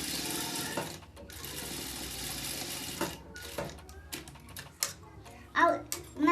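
A sewing machine runs a gathering seam with a long basting stitch on fabric for a camzol, whirring in steady bursts with pauses, close by, while someone talks over the later part.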